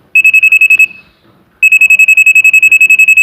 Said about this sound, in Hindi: इसका अलार्म चल रहा है ये कि यहाँ डेंजरस एरिया है, यहाँ करंट है